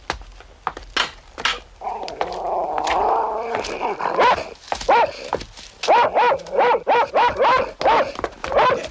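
A dog barks and growls close by indoors in a 1986 Sherlock Holmes television drama, a muffled whine giving way to a rapid string of loud, regular barks.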